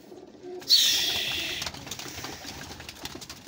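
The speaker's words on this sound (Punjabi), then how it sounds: "ਲੋ ਜੀ ਇਹ 70 ਕਬੂਤਰ ਨੇ ਜੀ ਫਾਰ ਸੇਲ" Pigeons kept for sale cooing and fluttering close by, a sharp burst of wingbeats or a bright call rising briefly before fading into a steady murmur of low cooing.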